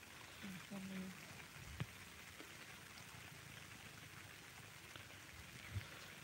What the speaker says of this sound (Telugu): ఇప్పుడే భారీ వర్షం స్టార్ట్ అయింది